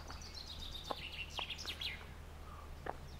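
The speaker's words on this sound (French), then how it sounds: "Et vous entendez les petits oiseaux, ils sont Voilà. contents." Small birds chirp outdoors in quick, high twittering bursts, fairly faint and at a moderate distance, over a low background hum, with no voices.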